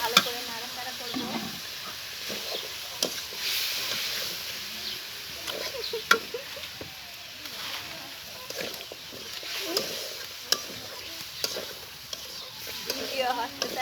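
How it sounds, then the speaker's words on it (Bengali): Taro stirred with spice paste in a frying pan during village cooking: soft scraping stirs over a steady oily sizzle, with occasional clinks of the utensil against the pan. "এবার ভালো করে নাড়াচাড়া করবো।"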